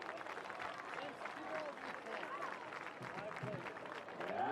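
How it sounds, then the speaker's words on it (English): A football crowd applauds Hall of Fame inductees at a high school stadium, with faint, distant clapping mixed with crowd murmur and a public-address voice over the top. "Northmont fans, please give a round of applause"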